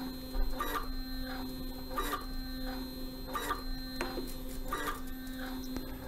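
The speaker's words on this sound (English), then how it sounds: "It takes a moment to compress the air out of the pump before it can continue to function normally." A Grundfos digital dosing pump runs while compressing air out, giving steady, evenly spaced mechanical strokes about once a second over a constant low hum, fairly quiet and close.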